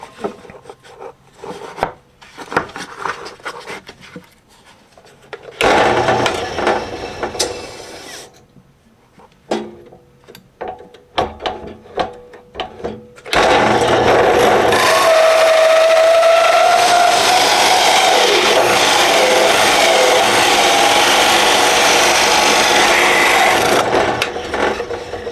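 Power tool bit grinding and rasping into a cedar fence picket, in bursts of harsh, loud cutting separated by quieter handling noise, then a long sustained cut near the end, with no talk.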